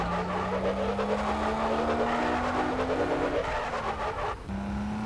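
Car tires skidding and screeching in GTA San Andreas with remastered high-quality sounds, a long continuous squeal rising in pitch over a loud engine roar, briefly cutting out and resuming near the end.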